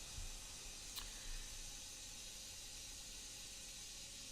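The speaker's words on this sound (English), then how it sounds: "I also apologize for the steam in the background of me here." Faint steady steam hiss sits in the background of a quiet indoor room, a soft continuous noise with a brief tick and a few low bumps early on; no voices.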